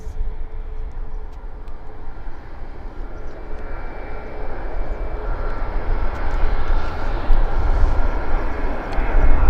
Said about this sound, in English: United Airlines A320.